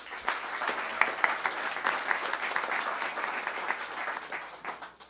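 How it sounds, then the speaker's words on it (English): An audience at a Kansas City startup pitch event applauds to welcome a speaker, producing a steady wash of clapping with a few sharper, nearer claps standing out before it gradually thins. "give him a round of applause"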